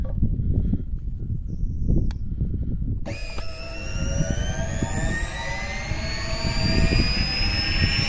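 A Kanistra cone log splitter's motor, run with a control board, starts abruptly and revs up, its rising whine climbing steadily in pitch over a steady low rumble, loud and close.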